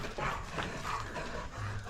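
A dog barks and whimpers faintly a few times, distant and low in level, with no talking.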